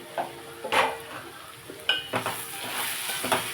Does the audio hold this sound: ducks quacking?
no